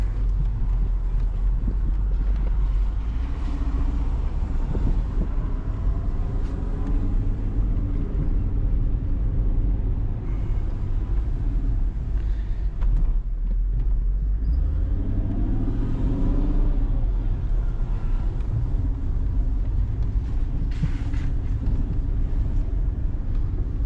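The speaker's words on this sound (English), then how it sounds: "Oh man, this car just wants to go." A supercharged Mercedes with hydraulic suspension drives and accelerates on the road, its engine rumble steady and close with wind buffeting the microphone, rising briefly in pitch mid-way.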